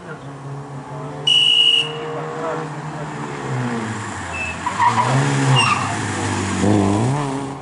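A rally car at the Rapla town people's sprint races along the track with screeching tire squeal and a rising, revving engine, nearby and loud, while a commentator talks over it.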